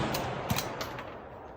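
Rifle shots on a short outdoor shooting range for precision-style practice, a few sharp cracks in quick succession, fairly faint and distant with a brief echoing tail.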